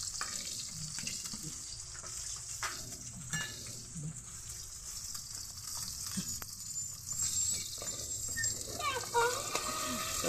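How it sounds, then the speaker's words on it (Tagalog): Fish frying in a pan, a steady hissing sizzle that rises and falls, close by, while a person talks over it on and off. "Ito, nagpipirito tayo ng bangsaya."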